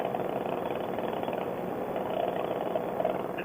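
Aircraft engine burbling at about quarter throttle during a descent, a steady muffled drone with slight uneven pulsing, heard inside the cockpit at moderate level.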